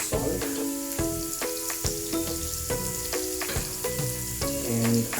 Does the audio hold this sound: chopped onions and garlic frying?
yes